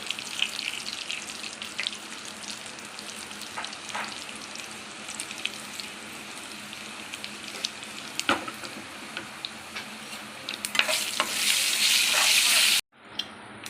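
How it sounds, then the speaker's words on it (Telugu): Dried red chillies and garlic frying in oil in a pan for tomato pachadi, a steady low sizzle dotted with sharp crackles and stirring clicks that swells louder near the end, then cuts off abruptly. "ఇలా బాగా ఫ్రై చేసుకోవాలి"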